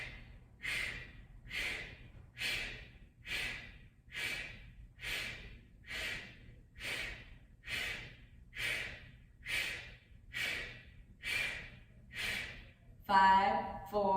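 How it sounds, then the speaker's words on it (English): Forceful exhales through the mouth in yoga breathing repeat in a steady rhythm, about one puff per second, close and breathy, with a short burst of other noise at the end. "This is just an exhale through the mouth."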